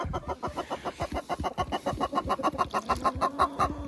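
Hens at a country dacha cluck rapidly and continuously while pecking at moldy bread, a close, busy stream of short throaty calls from several birds with no speech.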